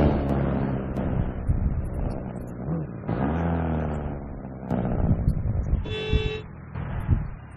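In the Car Zone racing game, a car horn blares for about half a second as a clear tonal honk, heard over a loud, continuous engine roar that rises and falls with acceleration.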